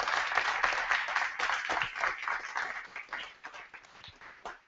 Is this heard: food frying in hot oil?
no